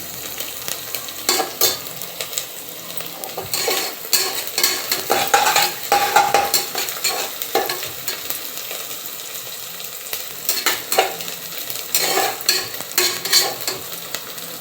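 Greens sauté in a pan for egg rice, a lively sizzle broken by repeated bursts of stirring and spatula scraping, close and fairly loud, with no voice.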